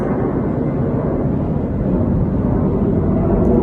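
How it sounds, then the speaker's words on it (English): An airplane passes overhead near a beach, a steady loud low rumble of engine roar filling the whole stretch with no talking. "there's an airplane."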